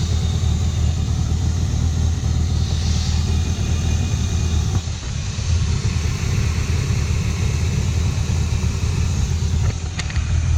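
A swapped car engine idles with an air intake leak, giving a steady low rumble with a faint airy whistle above it, heard close and continuous with a brief dip partway through.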